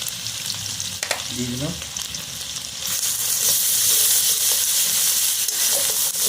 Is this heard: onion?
yes